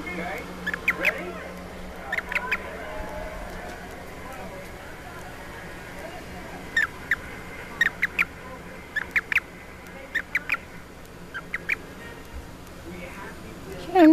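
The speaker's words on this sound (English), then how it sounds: "You're a noisy little frog." A small toad calls in short, bright chirping bursts, grouped in clusters and fairly close, while a person talks intermittently over a quiet background.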